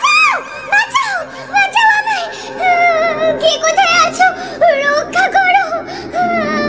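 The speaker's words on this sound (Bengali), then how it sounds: "চারপাশের নিস্তব্ধতাটাকে ভেঙে একটি মেয়ের কণ্ঠস্বর ভেসে এলো।" A voice cries out through the night in a horror audio drama, a series of high, wavering wails and calls rising and falling over several seconds, loud and close, with no other talk.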